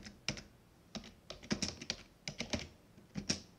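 Code being typed on a computer keyboard while building a Python terminal program, heard as bursts of close, crisp keystrokes in an uneven rhythm with short pauses between, with no talk.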